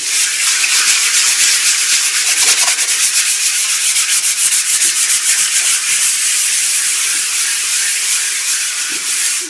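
A power sander runs continuously close up on decorative plaster on a countertop, making a loud, steady hissing scrub across the surface with a faint rhythmic pulsing.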